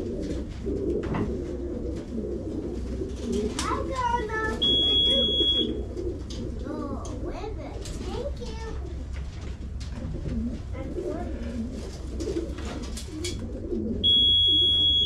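Racing pigeons coo repeatedly amid busy flapping and rustling at a basketing for a pigeon race, with a high electronic beep sounding twice and people talking faintly in the background.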